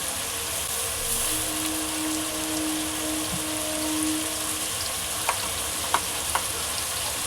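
Loud, steady sizzle of vegetables being stir-fried for a Chinese dish with soy sauce and vinegar, a continuous close hiss with a few faint clinks of a utensil near the end.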